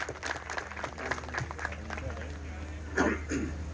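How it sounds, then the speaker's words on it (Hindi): Audience applause at the opening of a cattle farm, scattered clapping under continuous talk, with a cough and throat clearing near the end. "उतनी मोहब्बत से भरपूर आपकी तालियां होनी चाहिए"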